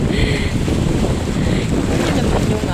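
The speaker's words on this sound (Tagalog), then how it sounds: "Ito naman yung alon." Big ocean waves surge around a fishing boat at sea, a loud steady wash of surf and roaring wind buffeting the microphone with no one speaking.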